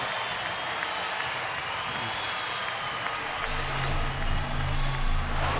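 A baseball stadium crowd at a San Francisco at San Diego game keeps up a steady wash of cheering and applause, with a low hum of voices underneath.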